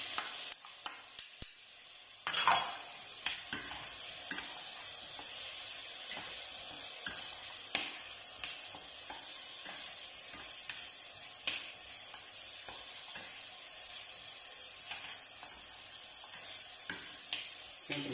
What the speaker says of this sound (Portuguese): Sempre mexendo para não agarrar o fundo